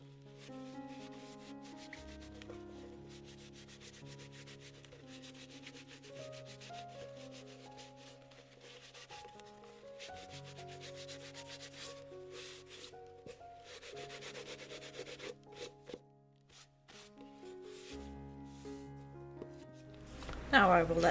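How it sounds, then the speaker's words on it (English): A rag gently buffs wax on a painted wooden box given a distressed antique finish, producing steady soft rubbing strokes up close, with tonal background music underneath. "Then I'm going to take another rag and gently buff the wax."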